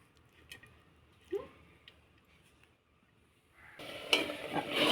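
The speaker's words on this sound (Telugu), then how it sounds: "ఈ టమాటోస్ ఫ్రై అవ్వడానికి టైం పడుతుంది." Tomatoes fry in a pan for a tomato pickle: faint scattered clinks and stirring at first, then a louder, steady sizzling that swells over the final second or so.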